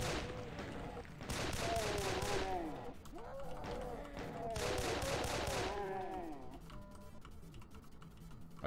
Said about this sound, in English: A pistol that's actually decent.